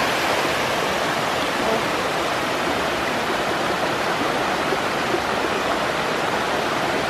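Water gushing steadily into a pool set up for the Epiphany cross-throwing, a loud, continuous broadband rush with no pauses, heard close and alone.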